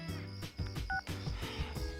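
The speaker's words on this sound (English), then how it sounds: "Suddenly, a ringtone echoes out in this empty place." A phone ringtone sounds in the video game Persona 4 Arena Ultimax, a bright electronic tonal pattern with repeating beeps, clear and prominent over game music.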